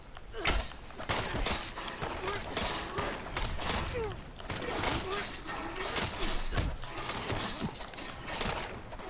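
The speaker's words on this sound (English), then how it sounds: "Oh my god, I'm getting shot at." Gunfire from enemy ghouls in Fallout 76, a dense run of sharp shots and mechanical clatter repeating across the clip, loud and close with game noise around it.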